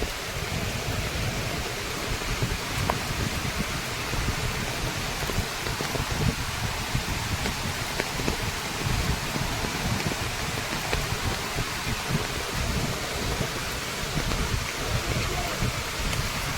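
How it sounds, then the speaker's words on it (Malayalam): Torrent of a monsoon waterfall at Malampuzha pouring from over 200 metres high, a steady, dense roar of falling water that fills the whole scene without pause. "200 മീറ്ററിൽ കൂടുതൽ ഹൈറ്റിൽ നിന്നാണ് വെള്ളച്ചാട്ടം ഒഴുകി ഇറങ്ങുന്നത്"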